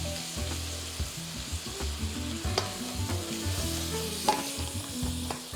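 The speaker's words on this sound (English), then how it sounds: "Then deglaze the pan with 60 milliliters or 1/4 cup of a good quality white wine." Pinot Grigio white wine hits a hot pan for deglazing, bubbling and sizzling loudly up close while a utensil scrapes and knocks rhythmically across the pan bottom, with no one speaking.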